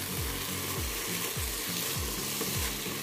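Vegetables for spaghetti bolognese frying in a pan, a steady loud sizzle with a rhythmic scrape-and-stir repeating roughly every half second, close up and with no voices.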